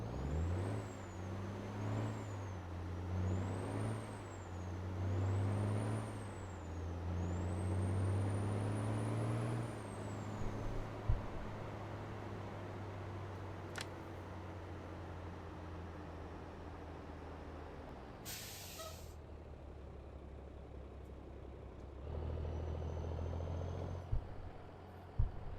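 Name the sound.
truck air brakes stopping in American Truck Simulator video game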